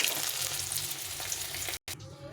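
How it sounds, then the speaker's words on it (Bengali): Rohu fish pieces frying in oil, a steady loud crackling sizzle close by, broken by a brief cut of silence before it resumes. "বাকি মাছগুলো এইভাবে ভেজে নেব"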